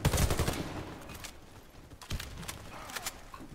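Shotgun blasts in the online shooter Warface: a heavy shot up close followed by a few sharper reports and mechanical clicks of the weapon, fairly quiet overall.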